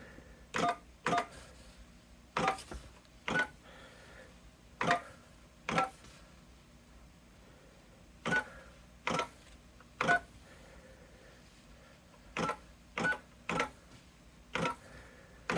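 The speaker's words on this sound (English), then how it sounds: "I am going to enter in the number and we'll hear the tones." Short DTMF tone bursts sound one after another at irregular intervals, keypad presses dialing a number from a Commodore 64 setup with a 1670 modem, over a quiet background.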